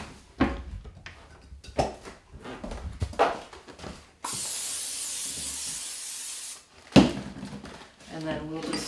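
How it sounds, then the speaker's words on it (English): Cooking spray hisses onto a pan in a steady burst of about two seconds, set between kitchen clatter and a person talking. "I'm going to spray our pan."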